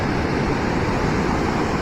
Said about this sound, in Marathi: तोपर्यंत बघताय ह्या मोठ्या मोठ्या लाटा आहेत.